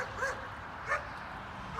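A small puppy gives a few short, high yips and barks, spaced apart and fairly faint against a steady background hiss, with no talking.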